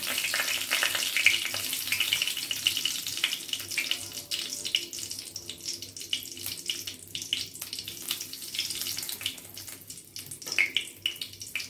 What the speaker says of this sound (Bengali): লবঙ্গ, এলাচ, দারচিনি আর জয়িত্রী ফোড়ন দিয়ে দিচ্ছি